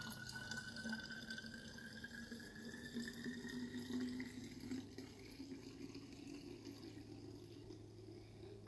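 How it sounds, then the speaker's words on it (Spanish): Tap water runs steadily into a bottle of baking soda and water for a homemade non-toxic cleaner, a soft continuous trickle with a slowly rising pitch as the bottle fills, quiet and close. "Hasta llenar la botella."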